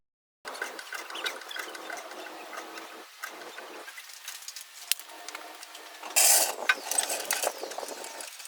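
A jack slowly lifts the keel of a 25-foot boat on its trailer in a driveway, giving off intermittent ratcheting clicks and creaks, with a louder burst of mechanical noise near the end.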